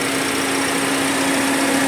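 A 2017 Toyota Yaris hatchback with the 2NR engine and automatic gearbox runs with the bonnet open, a steady, loud idle hum with a constant whine on top and no change over the short stretch.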